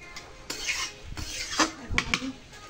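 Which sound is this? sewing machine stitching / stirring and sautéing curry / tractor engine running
stirring and sautéing curry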